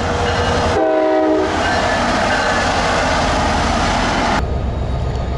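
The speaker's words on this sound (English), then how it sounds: "here, a train is coming" A train rumbles past loudly and sounds its horn in a short blast, the rolling roar continuing steadily after the horn stops.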